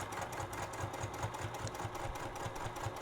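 A sewing machine stitches straight through a sweatshirt being converted into a zip-up, its needle chattering in a fast, even rhythm at close range, steady and unbroken throughout.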